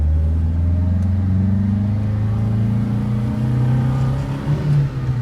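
A 1970 Lancia Fulvia 2C Berlina pulls away as the clutch is let out, its engine giving a steady, loud, close rumble that builds slightly in revs and carries on without a break.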